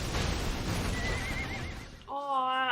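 A horse in the Attack on Titan anime gives a loud, wavering whinny amid a noisy action soundtrack, followed by a sudden tonal blast at the end.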